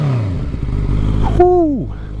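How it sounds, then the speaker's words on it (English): Honda CBR650R fitted with a Black Widow full exhaust revs up loudly close by, the engine note rising and then falling away as the throttle is released, with a brief higher whine trailing off. "the bike should be a little bit warm so we can give it a few revs."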